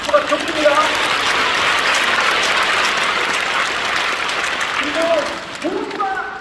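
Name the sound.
audience applause at church event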